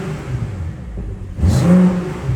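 A BMW M440i xDrive engine idles low in sport mode with the exhaust valve open, then briefly revs up with a throaty rise and settles back, loud and close.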